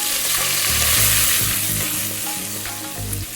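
Masala with fresh mint fries in a pan for paneer biryani, a loud, constant sizzle with soft stirring scrapes underneath.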